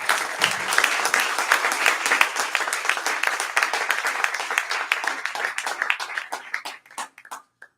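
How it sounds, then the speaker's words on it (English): An event audience gives a speaker another round of applause, a dense, lively patter of clapping hands that holds steady for several seconds, then thins into a few scattered final claps before fading out. "Let's give her another round of applause."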